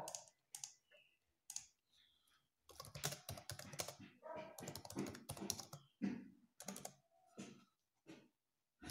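Quiet close-up typing on a computer keyboard, irregular clusters of light key clicks with short pauses between, including single presses of the Enter key.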